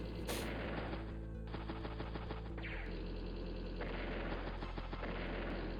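Rocket and artillery strikes in Advance Wars: Days of Ruin land as a dense, continuous barrage of synthetic explosions and rapid gunfire over a steady droning game soundtrack.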